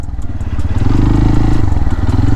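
A CFMOTO Papio XO-1 motorcycle engine runs steadily close by, with a rumbling, throbbing low tone and rising revs as the bike moves along, no voices.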